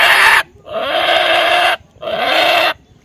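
A man imitates a pig's call with three loud, close, nasal squealing grunts separated by short pauses.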